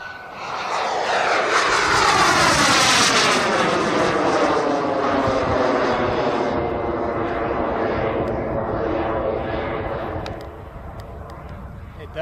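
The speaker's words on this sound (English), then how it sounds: "a zoom climb with full throttle" A Tuono NRG model airplane roars in a full-throttle zoom climb, its loud steady engine whine sweeping downward in pitch as it recedes, then thinning toward the end.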